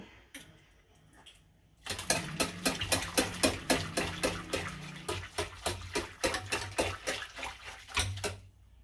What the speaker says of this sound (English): So it's sizzling up, that hot water, and I'm going to use some Dawn dish detergent